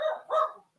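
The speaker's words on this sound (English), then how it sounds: "What's my dog barking?" A dog gives two quick, close barks in a row, sharp and fairly loud, then falls silent.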